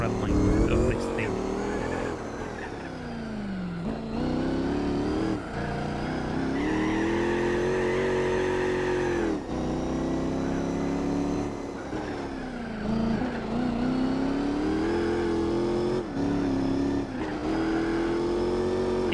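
A race car engine in Gran Turismo 4 holds near redline for a long stretch, with a dense steady roar and brief dips at gear shifts. Continuous and loud, it sounds like in-game audio.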